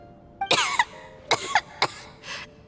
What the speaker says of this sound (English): How long have you had that cough, Tonya?